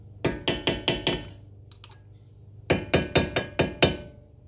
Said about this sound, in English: take our screwdriver and just lightly tap all the way around it to make sure that it's fully seated in the groove